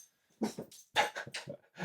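A dog whimpers and whines in short bursts close by, several separate yelps and breathy whines with pauses between them, and no talking.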